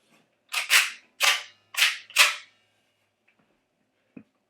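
G&G ARP9 airsoft gun being handled and cycled, five sharp metallic clacks in quick succession, close and loud, then a faint click and one small tap after a pause.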